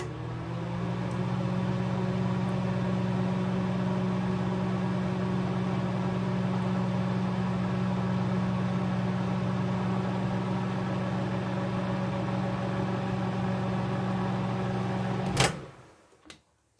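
A microwave oven hums steadily for a long stretch while reheating melt-and-pour soap, a constant low electrical drone, then a sharp click and the hum cuts off abruptly.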